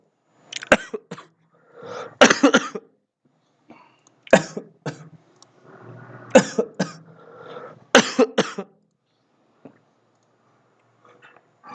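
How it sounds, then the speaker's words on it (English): Repeated bursts of coughing and throat clearing from one person close to the microphone, in irregular clusters separated by short silences, with no speech. "I have a little bit of a cough"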